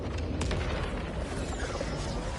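Booming gunfire explosions from a weapon in the video game Borderlands 4, dense bursts and pops packed tightly together in a loud continuous barrage with no voice over it.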